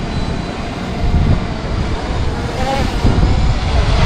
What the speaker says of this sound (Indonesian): Wow, kencang banget anginnya.